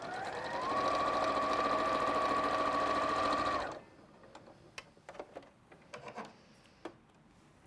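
A sewing machine stitches quilt seams in a fast, loud whirring run for a few seconds, then stops, leaving quiet fabric handling and small clicks.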